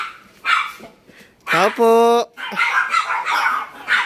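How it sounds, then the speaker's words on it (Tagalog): Several dogs bark outdoors at a house in a residential street, sharp repeated barks and a yip in bursts around a person calling out. "Maingay lang yung mga aso"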